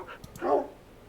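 Minecraft dogs barking: a couple of quick, soft yips followed by one louder, fuller bark, close and alone without talk.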